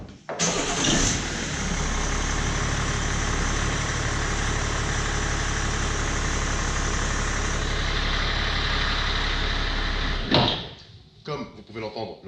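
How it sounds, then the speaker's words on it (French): A BMW 5 Series E60 530d diesel engine cranks and starts, settles into a steady loud idle for about ten seconds, then cuts off abruptly, followed by brief clunks and a voice. "Comme vous pouvez l'entendre, le moteur démarre correctement"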